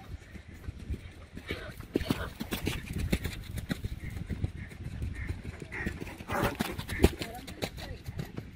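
Horses cantering around a show ring produce soft, rhythmic hoofbeats on ground beneath steady crowd and announcer chatter, with occasional brighter thumps and a louder hit near the end.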